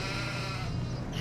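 Sheep bleating in Farming Simulator 25 on Wernolau Farm, a steady dense flock sound with overlapping calls throughout, fairly loud and unbroken, no talking over it.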